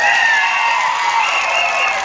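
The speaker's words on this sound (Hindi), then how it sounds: "एक बार जोरदार तालियां" Loud, dense applause from a large audience with some cheering, steady and close throughout, no voices over it.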